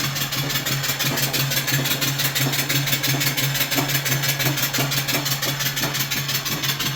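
An antique vertical steam engine runs steadily while a compressor operates, producing a fast, even, repetitive chuffing and mechanical beat with a steady low hum throughout, close and loud, with no talking.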